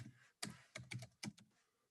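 Keys clatter on a computer keyboard as a search string is entered, a short run of distinct taps in uneven bursts, close and fairly quiet, with no voices.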